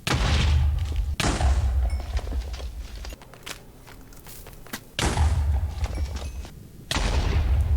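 TNT explosions in the game Minecraft, several loud booming blasts that each hit hard and then rumble away, with quieter crackling and thuds between them.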